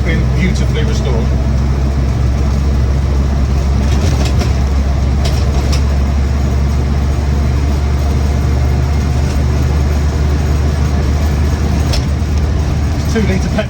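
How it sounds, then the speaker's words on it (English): A restored Land Rover Series 1 88in with a 2 litre petrol engine runs in a steady, continuous low drone from the cab, holding a constant level throughout while a voice talks over it. "This 2 litre petrol engine feels nice and lively"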